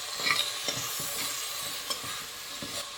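Chicken and vegetables are stirred and sautéed in a hot pan with Kashmiri chili powder, with repeated scraping strokes of a spoon over a steady close sizzle.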